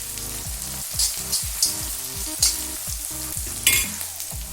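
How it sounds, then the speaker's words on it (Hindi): Onion fries in a pot over a gas stove, with a constant sizzle broken by rhythmic scraping stirs every second or so, close and moderately loud. "प्याज हमारा भुन चुका है।"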